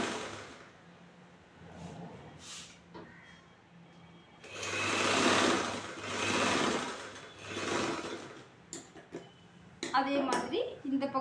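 Domestic sewing machine stitching a quarter-inch seam on a folded strip of blouse fabric, running in several bursts of steady whirring at moderate distance, with quieter pauses between runs and a person talking in between.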